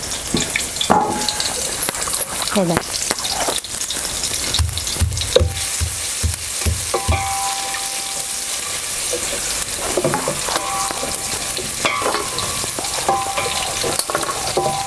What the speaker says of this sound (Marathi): तेल गरम झालेलं आहे हे घ्यावं लसूण हे आता लसूण टाकलेलं आहे मी ह्याच्यात